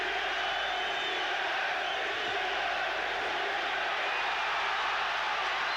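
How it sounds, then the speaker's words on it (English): Boxing arena crowd roaring steadily in support of the fighter McDonnell during a world junior lightweight title bout, a dense continuous wash of cheers and yells with no break. "The crowd trying to lift McDonnell."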